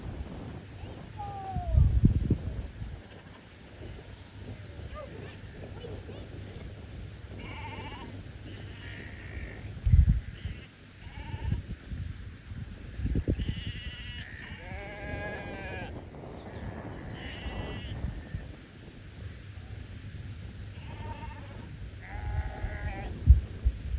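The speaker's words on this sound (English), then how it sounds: "This is the children's little flock of North Ronaldsay sheep." A small flock of North Ronaldsay sheep bleating out in a field, with scattered calls, some close and some farther off, over quiet outdoor background and occasional low bumps.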